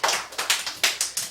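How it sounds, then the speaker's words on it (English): A few hands clapping in a quick, uneven series of about eight sharp claps at a school announcement honoring students, close and loud with no talk over them. "Give a round of applause to Iseth right there."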